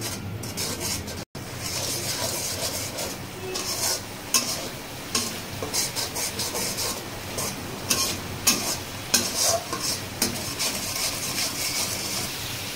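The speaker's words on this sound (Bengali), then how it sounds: "এখন মশলাগুলোকে ভালোভাবে নেড়ে মিক্স করে" Spices being stirred and fried in a pan for a Bengali fish curry, a steady loud sizzle with repeated scraping and clinking of a spoon against the pan, sharp strokes coming in a loose rhythm.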